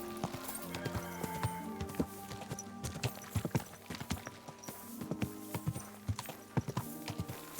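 Horse hooves clip-clop in an irregular walking rhythm, close by, with a low rumble of movement underneath.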